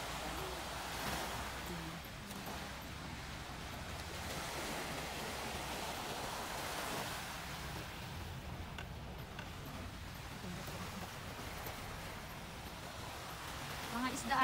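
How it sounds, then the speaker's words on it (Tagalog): Sea waves wash steadily around a fishing boat in a soft, continuous broadband roar, fairly faint and even, with no clear voices. "Medyo malakas na ngayon yung mga alon."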